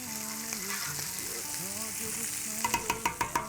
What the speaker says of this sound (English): We're going to let that boil up a little bit.